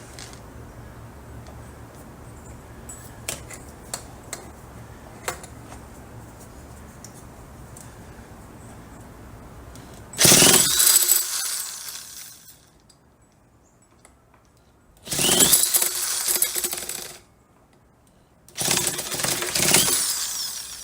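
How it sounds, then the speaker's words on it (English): A Poulan Craftsman 2150 chainsaw being spun by an electric starter: after quiet small ticks and clicks, three loud whirring cranking bursts of about two seconds each, separated by near silence. "we're going to spin it with this handy electric starter"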